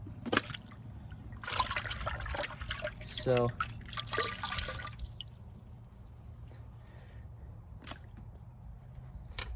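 A 2015 Kohler Highcrest toilet flushes nearby with a burst of rushing, gurgling water that fades into a quieter trickle, while a person speaks briefly over it.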